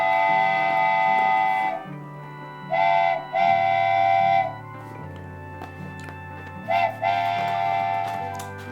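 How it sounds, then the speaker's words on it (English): A train whistle blows in several long, loud blasts, separated by short pauses, over low rumbling tones. "the trains whistle that it's time to go home."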